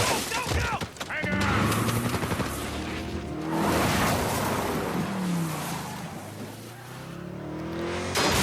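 Car driving in the video game Uncharted 4, a loud sustained engine roar mixed with bursts of gunfire and crashing action, continuous throughout with no pauses.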